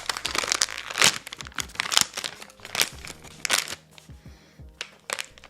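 Korean snack packaging is torn open up close, with bursts of crisp crinkling and rustling plastic coming in short, irregular clusters.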